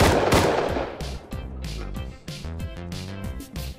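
Bursts of rapid automatic gunfire in the survival game Rust, loud and close, with sharp repeated shots in quick succession and brief pauses between volleys.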